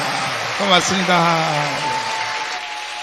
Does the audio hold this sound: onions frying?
no